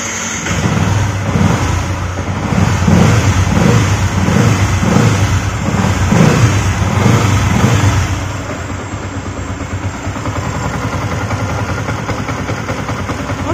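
A customised motorcycle engine is started and revved hard in a workshop, loud and close, with rhythmic throttle blips over several seconds before it settles into a steady, lower idle.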